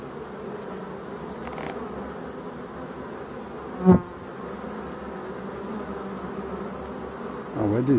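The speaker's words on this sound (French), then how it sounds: "On voit des abeilles qui essayent de découper le filet." Honeybees at a hive covered with netting against hornets, a steady close buzzing of many insects throughout, broken by one sharp knock near the middle and a brief louder rise at the end.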